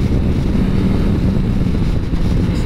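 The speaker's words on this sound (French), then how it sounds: "c'est ce bruit de boîte à air qui est aussi charmeur" A Suzuki GSX-S1000GX motorcycle engine pulling hard under acceleration, with a deep, steady airbox intake roar heard from the rider's position, masked by continuous wind noise and without a break for the whole stretch.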